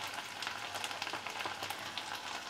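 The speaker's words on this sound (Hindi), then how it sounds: "लहसुन जब हमारा भून जाए हम डालेंगे यहाँ पे ड्राई मसाले" Garlic and dry spices such as turmeric, red chilli powder, cumin and coriander powder frying in a pan over a low flame for an egg and potato dish, giving a steady close crackling sizzle with no talking.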